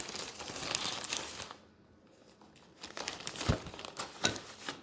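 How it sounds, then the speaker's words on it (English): Plastic packaging crinkles and crumples as it is handled close up, in bursts of rustling with a short quiet pause midway before more crackling resumes. "First, it was packaged in this plastic."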